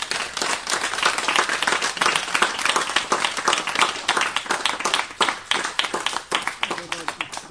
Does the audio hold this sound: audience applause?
yes